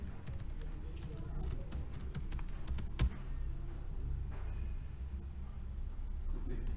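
Rapid clicking of keys on a computer keyboard while entering a website name, a steady patter of keystrokes with a few sharper taps, close and clear over low background hum.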